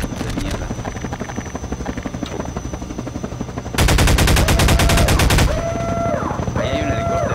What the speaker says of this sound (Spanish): Ahí hay un helicóptero.